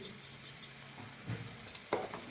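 Mutton keema frying over high flame in a pan, a continuous sizzle broken by scraping stirs and a few spatula knocks, close and fairly loud, with no voices.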